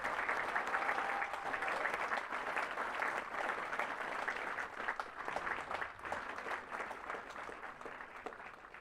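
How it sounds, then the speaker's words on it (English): An audience claps for awardees at a military basic camp graduation ceremony, sustained even applause from a large crowd at a moderate distance, holding steady for several seconds and tapering slightly toward the end. "please join me in giving our awardees another round of applause"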